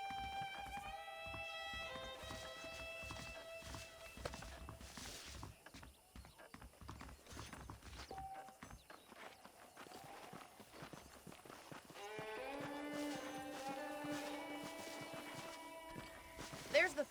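Saddled horses walk in the Red Dead Redemption video game, a steady, close clip-clop of hooves running through the whole stretch beneath a bed of music.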